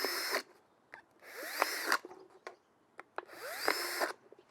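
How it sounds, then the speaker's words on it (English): Power drill boring holes in a plastic bottle, three whirring bursts of about a second each separated by pauses, with clicks and a rising pitch as the bit spins up and cuts through, close and clear. "We just need to drill just a few holes to let the water trickle out very slowly."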